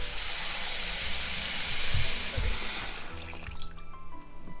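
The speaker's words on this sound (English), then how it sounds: "all we have to do is cover this in water." Water pours in a steady hissing rush over crushed garlic and mushrooms for a soup stock, then stops around the three-second mark, leaving softer trickles and clinks.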